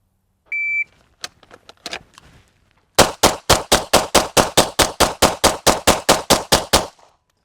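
A shooter runs a pistol mag dump drill at a 7-yard range: a timer beep, a short pause, then about eighteen loud, sharp gunshots fired in a fast, even rhythm until the magazine runs dry.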